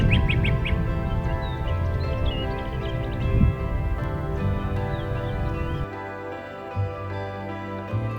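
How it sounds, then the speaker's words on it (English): A great crested flycatcher calls in springtime woodland: a few quick, sharp chirps early on, then fainter scattered calls over a soft, steady background. "The great crested flycatcher."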